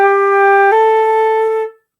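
A flute plays a smooth slur from G up to A, the air never breaking between the two sustained notes, close and clear, ending in silence.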